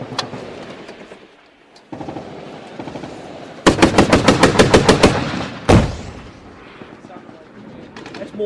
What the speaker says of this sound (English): That's mortars outgoing.